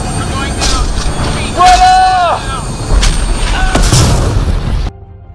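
In Mass Effect Andromeda, a lightning strike hits a shuttle and sends it down: heavy booms and rumbling impacts under urgent radio voices, loud and close, then a sudden cut to near silence.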